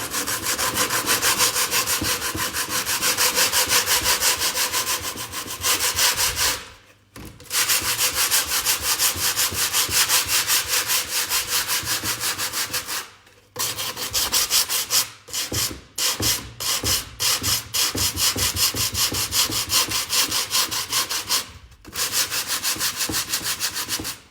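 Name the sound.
hand sanding with 80 grit sandpaper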